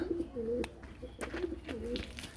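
Pigeons coo nearby in a few soft, low rolling phrases, two or three calls in quick succession over faint background noise.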